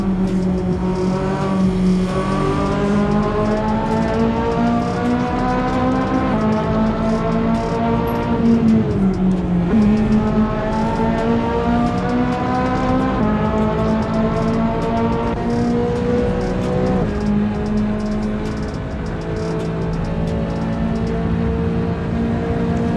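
A Ferrari in the racing game Forza Horizon 5 accelerates hard, its engine note climbing through repeated upshifts, steady, loud and close with no talking over it.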